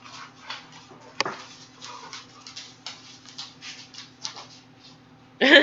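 Dogs climb onto and shuffle about on a chair indoors, making light irregular taps, scratches and pattering thumps with one sharper knock, before a voice briefly speaks at the end.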